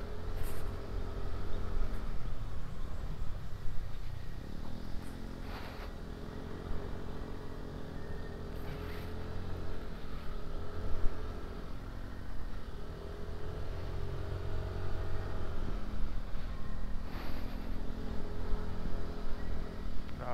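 A motor scooter rides at night near General Nacar, Quezon, on the way to a beach resort. Its engine holds a steady close drone with shifting pitch, mixed with rushing wind, and the rider's voice is absent.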